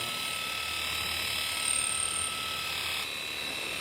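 Electric horse clippers clip around a horse's face and eye area, giving a steady close mechanical buzz with a high-pitched whine that rises briefly midway, with no talking.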